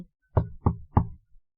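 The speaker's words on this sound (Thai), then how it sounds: "ชายหนุ่มเดินไปเคาะห้อง" Three firm, evenly spaced knocks land on a room door at close range, followed by quiet.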